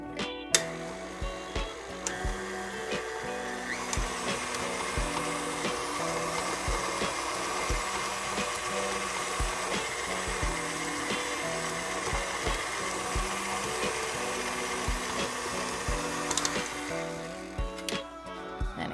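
An electric mixer beats sun butter cookie dough after an egg and vanilla extract are added, its motor whirring in a steady, loud drone for most of the span with faint recurring knocks of the beaters against the bowl, starting and stopping near the ends.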